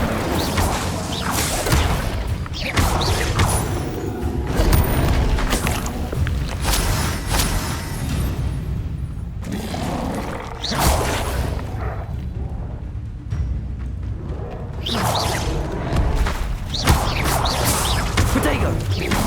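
Fiery spell bursts in Hogwarts Legacy gameplay: loud whooshing blasts and booming impacts recur throughout amid dense combat effects, with intermittent voice calls.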